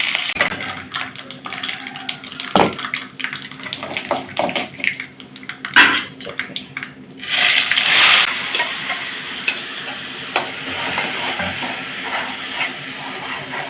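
Mustard seeds, cumin, a dried chilli and curry leaves crackle and sizzle in hot oil for tempering idli chutney, with steady frying hiss, scattered pops and occasional stirring clatter close by, swelling briefly louder midway.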